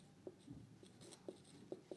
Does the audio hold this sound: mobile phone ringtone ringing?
no